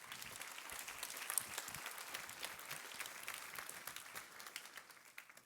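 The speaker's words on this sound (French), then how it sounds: "Et on peut acclamer cette vérité." A church congregation breaks into applause, many hands clapping together in a dense, steady patter that fills the room for several seconds before tapering slightly toward the end.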